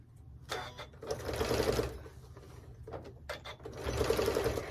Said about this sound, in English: And then push it down and then just start sewing.